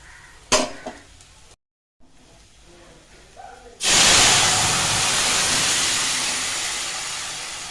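After a few clanks of a pan, a loud burst of sizzling erupts as cumin and garlic temper in oil, continuing as a steady hiss, slowly fading, close by.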